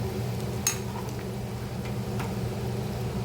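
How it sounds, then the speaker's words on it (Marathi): A pot of spicy crab and potato curry simmers at a steady boil, with a continuous soft bubbling hiss over a low hum and a few faint clicks, close and unbroken, with no talking. "छान उकळी आलेली आहे मस्त एकदम"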